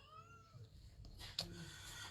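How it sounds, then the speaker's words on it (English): A house cat meows faintly in the background, a drawn-out wavering call followed by a shorter one, quiet against a low room hum. "Oh, and now the cat started."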